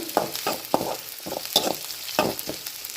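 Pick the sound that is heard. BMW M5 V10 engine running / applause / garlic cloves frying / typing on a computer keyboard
garlic cloves frying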